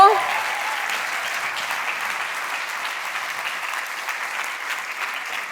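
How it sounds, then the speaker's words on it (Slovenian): Audience applause for Ajda on stage at the POPRI 2026 closing ceremony, a sustained, even roar of clapping from a large hall crowd, slightly distant and steady from start to finish. "še en aplavz za Ajdo"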